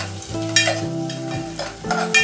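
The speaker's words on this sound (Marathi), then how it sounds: "तर हा कांदा जो आहे तो आपण चांगला भाजून घेऊया" Chopped onion is stirred and fried in a pan, with loud scraping strokes of a spoon over a steady sizzle, up close.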